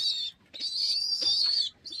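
Pigeon kept at home, at egg-laying time, giving thin, high, drawn-out calls close by: one short call, a pause, then a long sustained call and a brief call at the end, with no talking.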